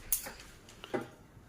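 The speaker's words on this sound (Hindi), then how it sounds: "तो गैस ऑन कर लेती हूँ," A gas stove igniter in a home kitchen gives a few sharp, faint clicks, one near the start and a quick pair about a second later, with quiet room air between them.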